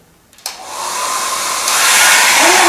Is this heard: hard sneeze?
no